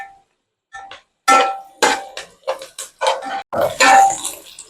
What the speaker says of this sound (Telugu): బాగా కలుపుకుంటూనే ఉండాలి.